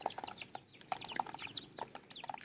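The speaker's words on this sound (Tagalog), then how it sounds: "Sobrang bait nito, chicken na to." A friendly chicken being hand-fed clucks softly and repeatedly up close, with short, irregular bursts of clucking and quiet gaps between them and no voices.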